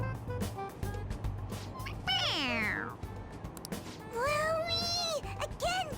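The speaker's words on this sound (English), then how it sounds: "It meows when you press on its head." A toy cat in the Persona 5 Royal video game meows when its head is pressed, giving a long, sliding mew followed by two shorter meows a moment later, loud and close over a low background hum.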